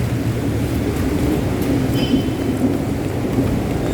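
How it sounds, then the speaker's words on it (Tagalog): Heavy, steady rain pours continuously on a flooded Taft Avenue, a dense roaring wash with no voices. "Grabe ang ulan."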